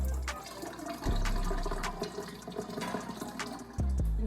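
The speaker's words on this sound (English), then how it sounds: "I'm gonna just pour the rest out in the sink." Leftover liquid from a boiling-hot hair bleach mix poured out into a sink, a soft, steady gush of running water with a couple of heavier splashes, heard alone without talk.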